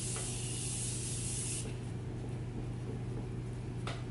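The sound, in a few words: Morphe Continuous Setting Spray being sprayed on face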